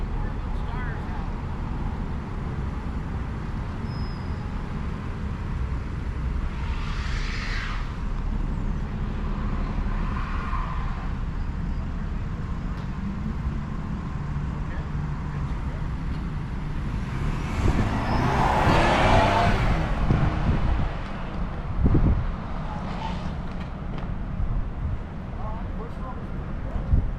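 A Ford ST SUV drives a test course, its engine droning steadily with tire and wind noise, swelling louder near the end as it swerves, while people talk inside the cabin.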